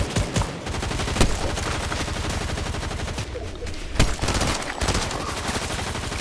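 Shotgun fire in a Fortnite firefight: loud, sharp blasts at irregular intervals, with standout reports near 0.4, 1.2, 4 and 4.7 seconds, over a dense bed of rapid gunfire throughout and no talk.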